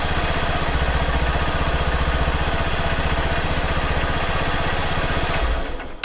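A motorcycle engine runs steadily at close range, a loud, even idle with a rapid low pulsing that carries on for several seconds before cutting off near the end.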